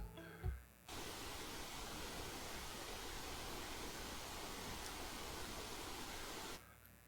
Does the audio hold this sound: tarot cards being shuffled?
no